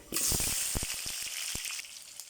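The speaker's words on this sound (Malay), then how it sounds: "Lepas tu kita masukkan bawang ya. Bawang belah 2 cukup ya." Onion halves dropped into hot oil with mustard seeds for a village-style fish curry, setting off a sudden loud sizzle with scattered pops and crackles that settles into a steady fry, close up.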